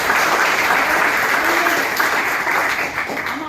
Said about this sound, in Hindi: जोरदार ताली बजा दें भाइयों के लिए